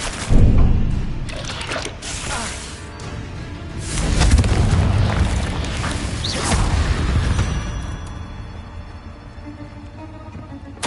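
Repeated Confringo spell blasts in the Hogwarts Legacy video game during a fight, a sharp boom at the start and a longer rumbling explosion midway, fading into a low sustained tail.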